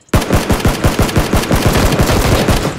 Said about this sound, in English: Oh no, that's you guys shooting.